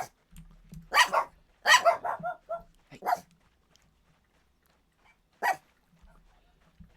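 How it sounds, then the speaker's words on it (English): Dogs in a room give several sharp barks in short bursts, reacting to distorted voices coming from a TV or game; a long pause follows, then one more bark, and the sounds are fairly quiet overall. "they're barking at themselves on the microphone"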